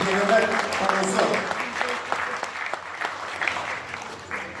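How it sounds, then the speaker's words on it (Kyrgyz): Thunderous applause from a large crowd at the opening ceremony of Naryn's Tengir-Too organization, with dense steady clapping throughout and voices mixed in under it. "дүркүрөгөн кол чабалар"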